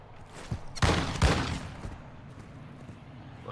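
A few distant gunshots in a video game, two sharper bursts close together followed by fainter trailing shots, fairly quiet against a low ambient rumble.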